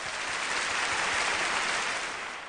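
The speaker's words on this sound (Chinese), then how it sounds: "掌声欢迎" A studio audience at an Errenzhuan variety show applauds in a dense, steady wash of clapping that swells slightly and then eases toward the end.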